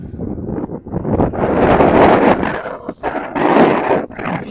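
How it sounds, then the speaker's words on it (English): Outdoors, strong wind buffets the microphone in loud rumbling gusts that swell and drop, with brief lulls between blasts. "It's windy today."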